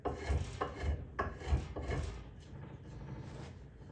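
Rasping strokes of sanding and shaping a wooden axe handle, about five quick scraping passes in the first two seconds, then softer, steadier rubbing, close and fairly quiet.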